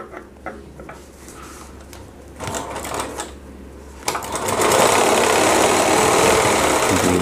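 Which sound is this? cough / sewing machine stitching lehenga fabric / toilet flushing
sewing machine stitching lehenga fabric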